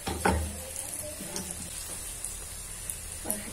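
Nagpur-style sambar wadi deep frying in hot oil: a continuous, moderately quiet bubbling sizzle with occasional small pops and clicks, heard close by.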